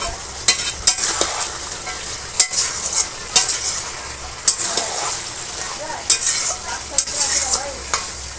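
Chicken is stirred and sautéed in its own released juices in a pan, with a steady sizzle under repeated sharp scrapes and clinks of the spatula against the pan.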